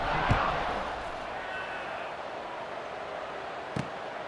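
Steady crowd roar from a college football video game, FCS Midwest at App State, swelling after a scoring drive as the kickoff unit takes the field, a broad continuous wash with a couple of brief sharp knocks.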